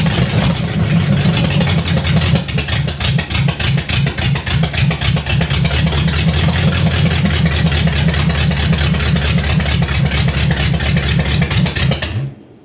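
A nailhead-powered rail dragster engine idling after starting, loud and close with a rough, lumpy rhythmic throb that holds steady before cutting off abruptly at the end.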